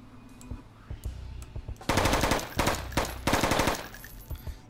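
Gunfire in the stealth-action video game Intravenous starts as scattered single shots, then turns into loud, dense bursts of rapid automatic fire with short pauses between volleys.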